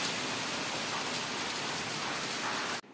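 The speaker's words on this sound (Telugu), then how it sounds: "వర్షం అయితే బీభత్సంగా పడుతుందన్నమాట" Heavy rain pours down in a dense, continuous hiss of drops hitting surfaces, loud and steady throughout, with a brief break at the very end.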